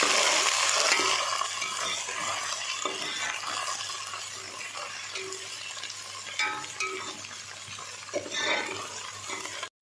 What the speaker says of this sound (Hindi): अब इसमें अदरक लहसुन का पेस्ट शामिल कर देंगे और इसे 2 मिनट के लिए फ्राई कर लेंगे